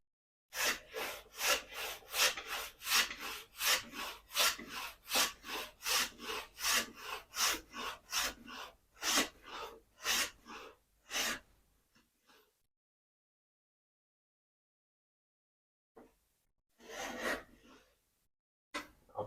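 Moulding plane cutting a profile in hardwood such as Sapele or African walnut along a straight guide: rapid, rhythmic rasping strokes, close and loud, for about twelve seconds, then silence with a few brief final passes.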